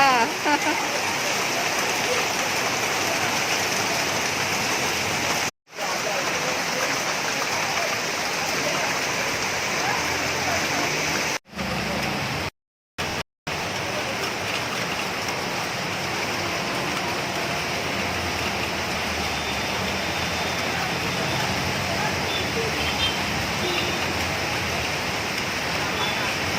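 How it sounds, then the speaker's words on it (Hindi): Steady, dense rush of heavy rain pouring down continuously in Mumbai, loud and close, with a few brief dropouts and no talking. "थोड़ा सा बारिश गिरा तो सब दूर पानी पानी हो जाता है।"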